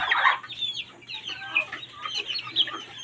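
Hens and chicks cluck and peep close by in a farm setting, a busy overlapping chatter of soft clucks and high chirps throughout.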